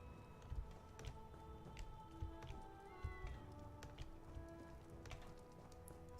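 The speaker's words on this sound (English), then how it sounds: "Just hear meows everywhere" Cats meow again and again across a house in Elder Scrolls Online, short mewing calls scattered close and far over a soft patter like rain, with no talking.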